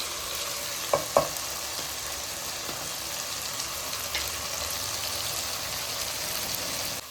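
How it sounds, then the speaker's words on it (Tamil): Tomatoes sauté in a pan for mutton biryani and are stirred until soft. A continuous, moderately loud sizzle runs throughout, with a pair of spoon clinks near the start and faint scraping later. "நல்லா குழைய தக்காளி வதங்கணும்."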